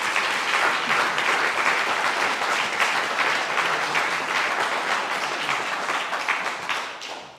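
A room at a regional volunteer awards ceremony breaks into sustained, dense applause for the club's first female chair, a loud steady wash of clapping that fades slightly at the end.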